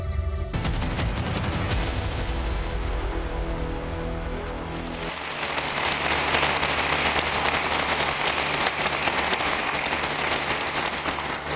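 Studio audience applause on a Turkish Survivor discussion show, starting after a stretch of music-like tones and then filling the space as dense, steady clapping for several seconds.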